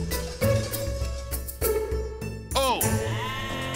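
Several sheep bleat loudly and repeatedly, near and overlapping, in a pen during milking for Carpathian hard cheese production in Ukraine.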